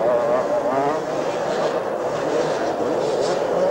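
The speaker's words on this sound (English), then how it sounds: "He's being chased by that 125 Suzuki in second place, being ridden by Bremen, bike number six." 125cc Yamaha and Suzuki motocross bikes race at a 1982 supercross meeting at Olympic Park, their engines a steady, loud buzzing drone throughout with no talk.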